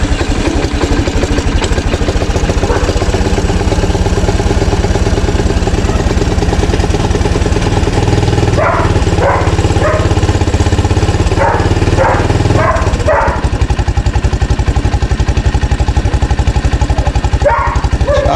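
A 1983 Honda Big Red three-wheeler engine with a new spark plug and welded exhaust runs loud and close at a steady idle, its low rhythmic thrum constant throughout, with brief voices and knocks over it midway.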